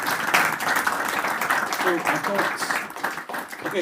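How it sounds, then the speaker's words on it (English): Audience applause at a Cambridge music event, a crowd clapping steadily for a few seconds with a voice talking faintly underneath, moderately close and slowly fading toward the end. "So just to have a round of applause for Tom and McAll."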